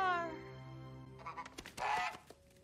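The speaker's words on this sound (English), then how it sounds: "Oh no, don't hurt the goose." A goose in the horror film Pearl gives a loud, drawn-out honk, followed by a burst of scuffling, flapping and clattering that ends in a short wavering squawk.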